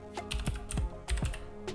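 Computer keyboard keys tapped while entering a folder name for an Xbox 360 emulator setup, a short run of about five crisp, close keystrokes in an uneven rhythm.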